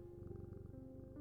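A pet cat purring steadily up close, a soft continuous rumbling pulse with no voices over it.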